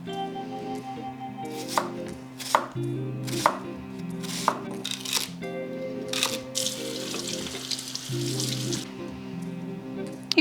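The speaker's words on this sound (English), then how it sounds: "chop the ends off of the celery" Celery ends are chopped on a cutting board with a knife, a series of sharp, close knocks at an uneven rhythm with a faint trickle of water behind them.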